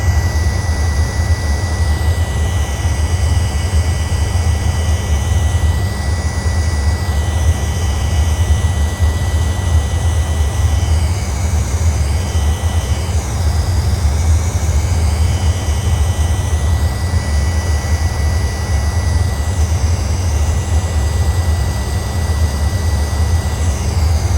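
Avro Vulcan jet engines in a flight simulator game, a loud steady roar with a whining tone that drifts and wavers as the power comes back, continuous throughout.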